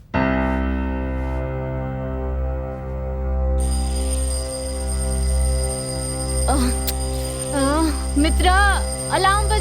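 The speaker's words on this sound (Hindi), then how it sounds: "अलार्म बज रहा है।" An alarm rings in a horror thriller scene, a loud sustained electronic tone held throughout with a brighter layer joining partway, and wavering voice-like sounds over it toward the end.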